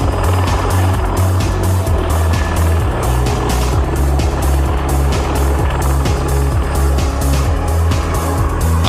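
V-22 Osprey tiltrotor aircraft lifting off like a helicopter, with loud, continuous rhythmic rotor thumping and engine roar throughout.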